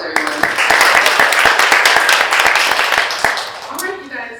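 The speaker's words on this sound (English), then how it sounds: "Let's give them a round of applause, everyone." An audience at a young professionals' entrepreneur panel gives a round of applause, with scattered crisp claps forming a steady patter that fades as a speaker begins talking near the end.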